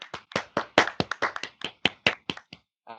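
A small group claps for a podcast guest named Shivani, a short run of about a dozen distinct, sharp hand claps close to the microphone, quick and slightly uneven, ending with a brief pause and one last soft clap.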